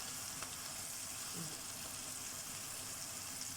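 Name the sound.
onions with flour frying in oil, being stirred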